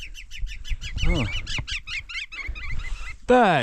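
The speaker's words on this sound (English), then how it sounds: "Birds!" Repeated short bird chirps in a quick, steady series on a Peruvian mountain at over 5,000 meters, then a louder squawking honk near the end, with faint low rumble beneath.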